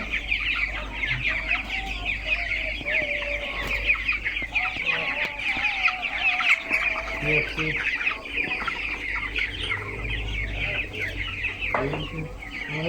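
Broiler chickens on a poultry farm cluck steadily throughout, a dense overlapping chorus of many birds at close range with constant background noise and no clear talk.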